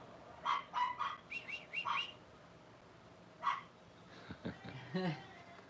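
Several short, high-pitched yips and barks from puppies come in scattered bursts, close by, with a bit of talk near the end.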